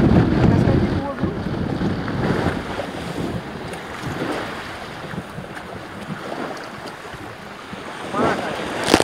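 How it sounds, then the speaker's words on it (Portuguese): Strong wind at sea buffets a jangada raft, roaring in heavy gusts against the microphone with water noise beneath, continuous and loud, with bursts of louder gusting at the start and end. "Hoje o vento tá zangado hoje, pessoal. Muito vento."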